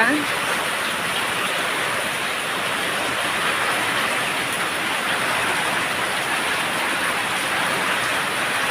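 Heavy monsoon-season downpour in rural Bangladesh during rice harvest, a loud, steady hiss of dense rain with no pauses, near and enveloping for the whole stretch.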